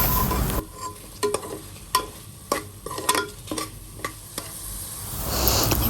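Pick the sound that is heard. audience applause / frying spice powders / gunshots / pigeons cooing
frying spice powders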